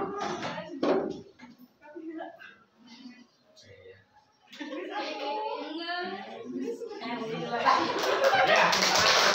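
Pupils in a Sundanese-language class at a senior high school break into applause, the clapping building toward the end and mixed with children's chatter and laughter nearby.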